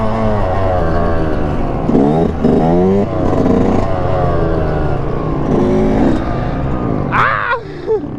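Yamaha WR 450 Supermoto motorcycle riding past at night, its engine note rising and falling through several gear shifts over a steady background of other traffic, with a brief high whine near the end.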